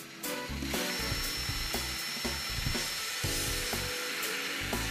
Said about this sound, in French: Ils sont montés à l'aide de vis taraudeuses que vous vissez directement dans les profilés en aluminium.